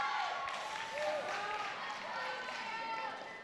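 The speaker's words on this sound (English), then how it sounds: "The crowd Beautifully cheering." Crowd cheering and clapping at a high school homecoming e-sports Super Smash Bros. match, a dense, sustained roar of applause and voices that fades slightly at the end, with a commentator talking over it.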